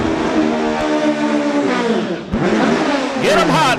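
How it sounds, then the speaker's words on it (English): Drag racing cars at Farmington, including the HO Motorsports Frey Racing Engine sponsored machine, rev loudly, with engine roar and rising revs under an announcer's voice over the track PA. "Oliver Frey here on the Tower Side, the HO Motorsports Frey Racing Engine sponsored machine"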